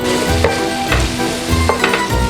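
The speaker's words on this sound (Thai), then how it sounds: "ผัดไปให้มันกลิ่นหอมหน่อย" Macaroni with shrimp, tomato and onion stir-fried in oil in a pan, with loud sizzling and repeated scraping strokes of the spatula in an uneven rhythm, up close.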